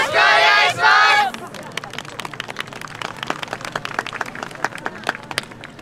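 An audience at the Sakai Yosakoi Kaeru festival at the Mizugaike Park venue claps along in a brisk, steady rhythm after a loud shout, dense repeated hand claps filling the outdoor space.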